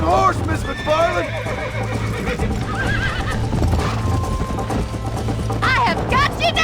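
In Red Dead Redemption, a horse whinnies loudly amid clip-clopping hooves and galloping, with further neighs and game sounds layered over a steady rumble, while characters talk.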